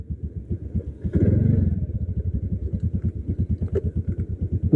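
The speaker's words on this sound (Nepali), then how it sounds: "कार्कीको बाइकमा हटेको अब यो चढ्दैन" A Hero XPulse 210 motorcycle rides along at a steady idle-to-cruise pace, its single-cylinder engine thumping in a fast, regular pulse, close and fairly loud, with one brief swell of revving near the start.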